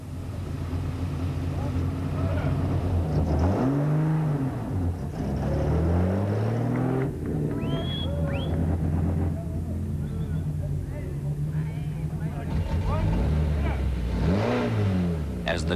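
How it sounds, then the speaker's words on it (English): Rally cars from the 1986 Wesbank International Rally head off toward forest stages in the hills around Sabi, engines droning and rising in pitch as they pass and pull away, steady and fairly loud throughout. "As the cars head off towards the forests in the hills around Sabi"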